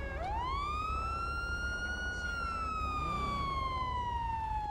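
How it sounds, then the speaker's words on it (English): A police siren wails steadily, its pitch sweeping up and then slowly falling, loud and continuous against a low rumbling background. "There's sirens wailing."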